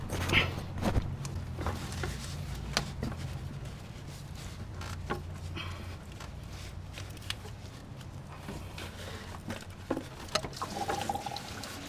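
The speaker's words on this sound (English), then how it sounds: "Make sure you put the water container down there to catch the water." Coolant water trickles and splashes from a detached hose on a 2012 Dodge Grand Caravan into a catch container, a soft, continuous pour with scattered clinks and tool handling close by.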